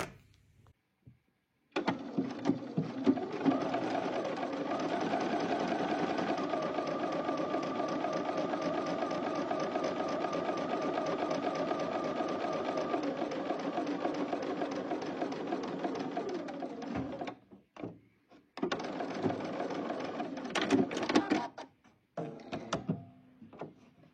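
A sewing machine stitching pleats in fabric runs as one long, even mechanical whir for about fifteen seconds, then a few short, stop-start bursts follow.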